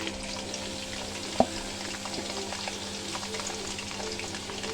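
Tomatoes and onions fry in spiced oil for a mutton curry, giving a constant, fairly quiet sizzle with a single sharp clink partway through.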